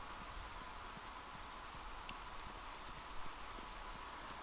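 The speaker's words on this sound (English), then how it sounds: "Imagine how the rain must feel." Rain falls steadily in The Last of Us, a constant hiss of drops with soft scattered patters and taps on surfaces, fairly quiet and unbroken throughout.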